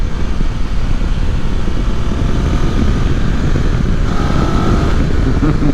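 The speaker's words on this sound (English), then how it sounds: "you're probably not going to be able to hear me over all the wind noise that I'm getting in my helm" Steady, loud wind roar buffets inside the helmet of a rider on a 2024 BMW F900GS motorcycle, with the engine drone underneath, continuous and close throughout.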